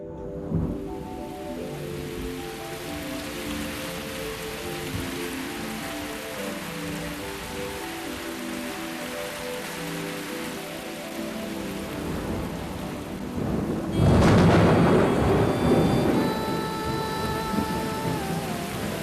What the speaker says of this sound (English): Tonight, the first of the monsoon rains brings some relief from the intense heat.